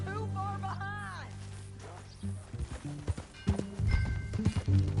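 Horse hooves clip-clop in a quick rhythm as a rider sets off in Red Dead Redemption 2, after a voice and a horse's whinny, with game music underneath.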